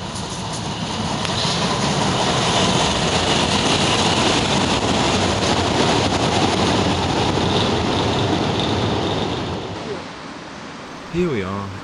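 A metro train ride to Heworth, with steady broadband rumble and rail noise carried throughout at constant loudness, easing off near the end as a brief voice-like tone appears.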